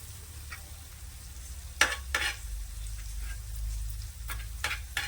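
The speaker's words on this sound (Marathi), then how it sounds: "हे बेसन आहे ना आपल्याला हलकंसं असं भाजून घ्यायचंय" A spoonful of gram flour (besan) stirred and lightly roasted in a pan with masala for tawa egg masala, with a few scraping strokes over a low background hum.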